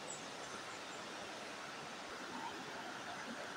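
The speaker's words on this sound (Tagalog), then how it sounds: "Maingay yung ilog." A noisy river rushes along in a rural province near a hanging bridge, a dense, steady roar of flowing water that stays even throughout, with no voices.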